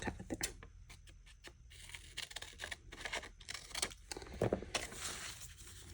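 A knife slices through a paper page for a junk journal, heard as faint, close scraping and crinkling cuts in a quiet room.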